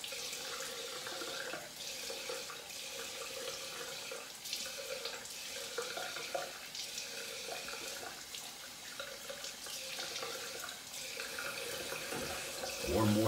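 Water runs steadily from a bathroom tap into a sink for a rinse after shaving, a continuous close splashing hiss with faint sounds of handling near the end.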